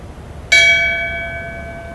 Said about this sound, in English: Would you please ring the bell in tribute and in memory for retired Deputy John Babizak?